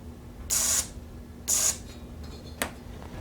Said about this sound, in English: tap on it real quick to simulate the electrical impulse going to the fuel injector, and we'll monitor the spray coming out